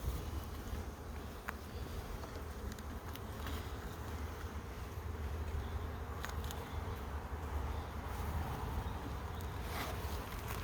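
Dense, continuous buzzing of many docile honeybees close by during a National hive inspection, a steady hum with occasional soft rustles and bumps.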